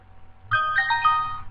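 A mobile phone ringtone in an indoor setting plays a short, clear melodic chime of a few bright notes, fairly loud against quiet background hum.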